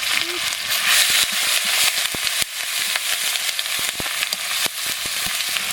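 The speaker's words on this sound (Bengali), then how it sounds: "তেজপাতা দিয়ে দিচ্ছি পেঁয়াজ আর রসুন বাটা দিয়ে দিচ্ছি জিরা বাটা দিয়ে দিচ্ছি লঙ্কা বাটা দিয়ে দিচ্ছি" Bay leaf, onion-garlic paste, cumin paste and chili paste sizzling in a hot pan, a loud steady frying hiss scattered with sharp crackles and spoon scrapes, under occasional talk.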